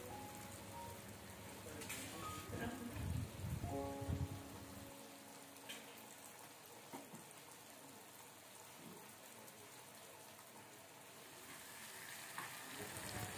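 Sliced beef goes into boiling broth for rawon, a Javanese beef soup, setting off a steady close bubbling and sizzling hiss with a few clinks early on, and no talking.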